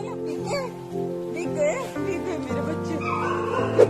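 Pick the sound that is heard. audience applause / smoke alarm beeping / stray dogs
stray dogs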